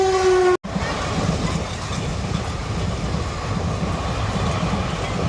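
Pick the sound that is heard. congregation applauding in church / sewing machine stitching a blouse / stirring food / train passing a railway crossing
train passing a railway crossing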